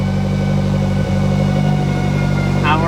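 A Nissan S13 engine idles nearby, a loud, steady mechanical hum with constant low-frequency drone throughout and no talking.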